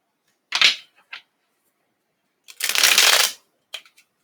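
Witch tarot deck shuffled by hand in two quick riffles and then one longer, denser riffle, with a few light card taps at the end; close and crisp, and no one talks.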